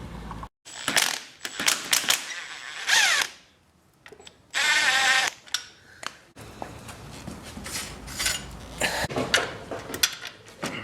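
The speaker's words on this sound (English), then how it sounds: "get better access to these bolts with the power drill, so it'll be easier to unscrew them" Power drill working at bolts on a Yamaha Raptor 660R quad, with several short whirring bursts separated by pauses and clanks of metal tools, close and loud.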